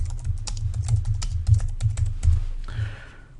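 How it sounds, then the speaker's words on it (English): Rapid clicking keystrokes on a computer keyboard, close and fairly loud over a low steady hum, with irregular rhythm and a brief rustle near the end. "I'm typing in Scribble"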